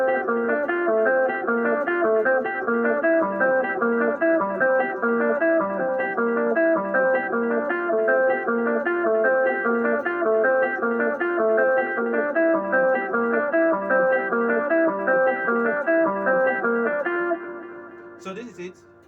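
A keyboard groove over a 1-5 progression in C plays as dense, continuous chords in a steady rhythm, loud and alone, ending with a brief trailing note.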